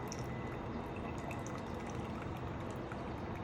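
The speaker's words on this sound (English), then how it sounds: "Draining down through that basket of coffee" Water draining and dripping through the coffee basket of a GSI Coffee Rocket, a close, steady trickling patter throughout, with no talk over it.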